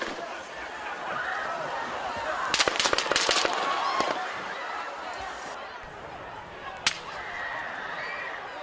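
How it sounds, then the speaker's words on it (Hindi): A rapid string of sharp gunshot cracks at an outdoor Trump rally, then a lone later shot, all somewhat distant over a crowd murmur and a talking voice. "एक हथियार से 3 बार गोलियां चली हैं, देखिए वो तस्वीरें, और दूसरे हथियार से चली है 5 बार गोलियां।"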